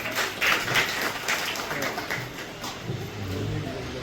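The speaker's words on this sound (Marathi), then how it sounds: "पुन्हा एकदा शिक्षिकेसाठी जोरदार टाळ्या होऊ शकतो" An audience at a school event claps for a teacher, with dense, rapid applause that is loudest in the first half and then thins. A low voice-like murmur comes in near the end.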